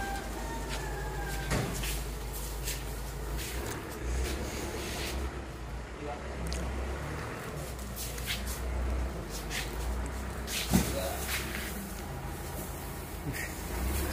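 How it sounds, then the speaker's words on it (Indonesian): A rice mill machine grinds unhusked rice with a steady, loud mechanical roar and rattling hum that holds throughout, while people talk nearby over the noise. "Nih, langsung di giling."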